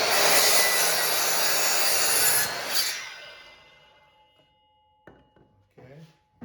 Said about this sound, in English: I'm going to intentionally cut this just a little bit long